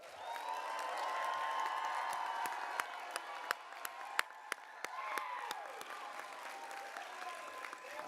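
A large audience applauds newly graduated alumni at a Georgia Military College fall commencement ceremony, with steady, fairly distant clapping, sharp individual claps standing out and some cheering mixed in.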